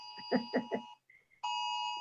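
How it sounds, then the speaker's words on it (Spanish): An alarm goes off in Puerto Rico in the middle of a church-reopening broadcast, a steady electronic ringing tone that starts, cuts out briefly with faint chirps, then returns loud and sustained. "Ya aquí nos están sonando la alarma en Puerto Rico"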